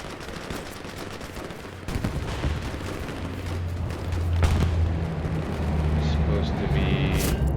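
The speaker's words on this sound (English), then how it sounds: "So where's that guy who's shooting at me?" Battlefield gunfire in the video game Hell Let Loose Vietnam, a dense continuous wash of shots and distant booms that swells and rumbles steadily, with sharper reports near the end.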